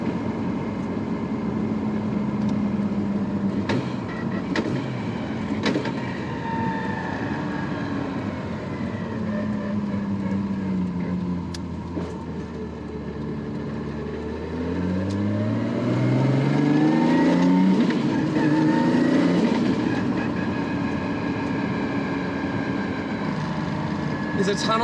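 An R32 Skyline GT-R with an RB32 engine and Garrett G45-1500 turbo cruises in fifth gear at low revs, a steady mid-pitched engine drone that rises toward the end, with someone talking over it throughout.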